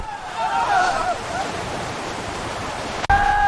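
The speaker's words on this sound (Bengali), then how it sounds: "ভয়ঙ্কর ঝড়ে রাজপুত্রদের নৌকা বিপদে পড়ল।" Rough, rushing water noise like churning waves, loud and steady, with a voice briefly speaking over it.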